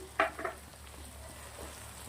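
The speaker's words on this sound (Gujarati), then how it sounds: "લોટ નાખ્યા પછી સરસ મજાનું મિક્સ કરી લેશું અને ધીમા તાપે આપણે આને ત્રણથી ચાર મિનિટ સુધી શેકી લેશું" Okra with roasted gram flour and ground spices in a pan over low heat, with two quick stirring scrapes at the start, then a faint, quiet sizzle.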